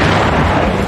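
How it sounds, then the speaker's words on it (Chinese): A pickup truck draped in an Israeli flag is blown apart by an airdropped bomb in a Houthi military drill, heard as a loud, close, rumbling blast that fills the whole short moment. "披着以色列国旗的皮卡车被空投炸弹炸到解体"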